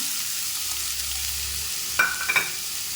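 Squeezed grated ash gourd sautéing in ghee for kasi halwa, a steady close hissing sizzle with a couple of sharp metallic scrapes of a spoon against the pan near the end.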